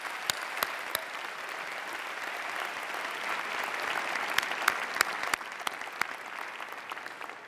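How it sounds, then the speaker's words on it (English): Audience at a 2009 high school commencement applauds steadily for student speakers and performers, a dense continuous wash of clapping with sharper individual claps popping out, heard from within the crowd. "another round of applause for all the student speakers and performers"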